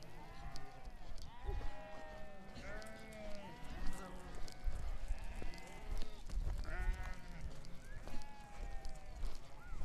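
A large flock of sheep numbering around 1200 bleats continuously, with many overlapping calls rising and falling at close and middle distance, while other noises from the herd mix in underneath.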